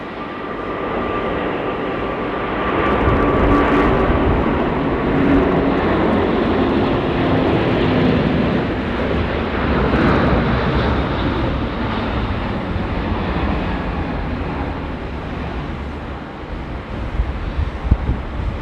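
Qatar Airways superjumbo taking off on runway 34 left at Sydney Airport at night, a steady loud roar of jet engines mixed with wind rumble that holds for the whole stretch, swelling slightly midway.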